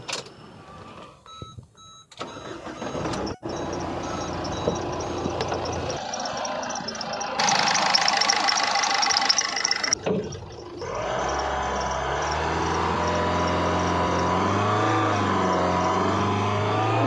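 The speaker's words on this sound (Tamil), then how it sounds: "இப்போ நம்ம அந்த வண்டியை ஸ்டார்ட் பண்ணி பார்த்துடலாம்." A used car for sale in Tirupur clatters through assorted clicks and shuffles, then its engine starts and settles into a steady, close running drone.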